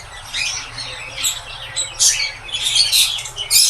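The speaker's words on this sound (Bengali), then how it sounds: "আমি কিছু পাখি আনছি।" Caged birds in a newly set-up aviary colony with plants and soil, chirping and tweeting in quick, bright bursts that come close and fairly loud, clustering more densely toward the end.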